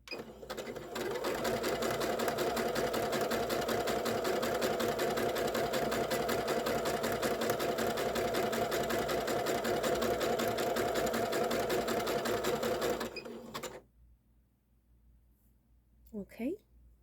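A sewing machine stitching down a strip of lace runs in one fast, steady whir for about thirteen seconds, close and loud, then stops, followed by a short quiet stretch and a brief faint voice.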